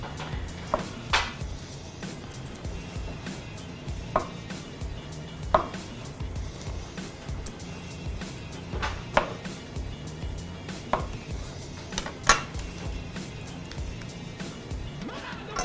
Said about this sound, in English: My grandma and my mom cut tofu always on the hand